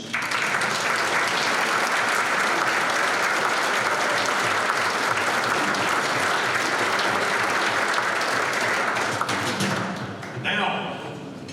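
Audience applause at a UTEP Hall of Fame ceremony, a loud, sustained dense clapping that fades out near the end as a voice starts speaking.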